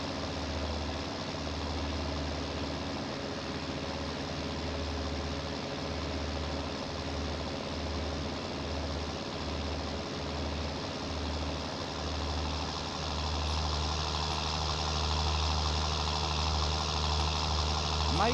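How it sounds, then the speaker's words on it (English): A tractor engine in Farming Simulator 19 runs steadily for the whole stretch, a loud, even low drone with a throbbing rhythm, alone with no talk. "Beautiful sounding tractor."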